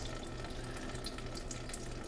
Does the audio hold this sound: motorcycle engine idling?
no